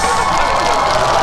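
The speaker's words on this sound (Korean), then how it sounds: "박수가 굉장히 많이 나오네요" An audience at an outdoor concert claps and cheers for a singer in a steady, dense burst of applause that sounds loud and close.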